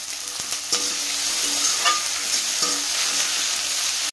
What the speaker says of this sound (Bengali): এবার এর মধ্যে কিছুটা টমেটো কুচি দিয়ে দিলাম।